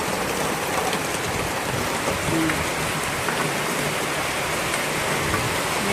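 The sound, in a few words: rain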